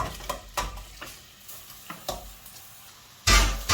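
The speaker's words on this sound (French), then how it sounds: "Voilà, le beurre est fondu, on va y mettre les poireaux." Leeks stirred into melted butter in a pan over medium heat, a soft sizzle with repeated scraping stir strokes, then a sudden louder burst of frying near the end; no voices.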